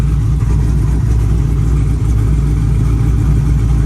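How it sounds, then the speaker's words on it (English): A cammed Dodge SRT Scat Pack idles loud and close with a steady, choppy lope and deep low rumble, no talking over it. "Y'all hear the car chopping?"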